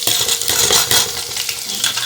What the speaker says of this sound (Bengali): এবার কাঁচা লঙ্কা পেঁয়াজটা একটু ভাজা ভাজা করব।